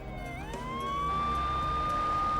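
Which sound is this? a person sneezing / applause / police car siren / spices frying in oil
police car siren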